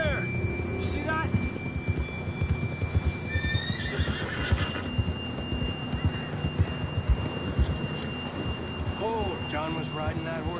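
In Red Dead Redemption 2, a horse trots with steady clip-clopping hooves and lets out a couple of whinnies, over a low hum, with voices speaking in the game.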